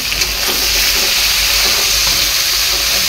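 Onion, tomato and garlic fry in a pan for whole masoor dal, a loud, dense sizzle and hiss that holds steady the whole time, with faint stirring and no one talking.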